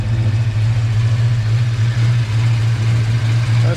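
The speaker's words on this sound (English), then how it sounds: "That might be the best sounding X-pipe I've ever heard" Saleen Foxbody with an X-pipe exhaust idling after a rev, a steady deep low rumble with slight lope, close and loud throughout, no talking.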